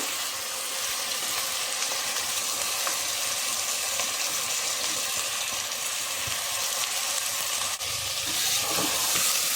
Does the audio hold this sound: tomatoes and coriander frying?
yes